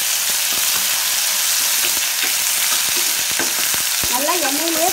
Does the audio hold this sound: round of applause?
no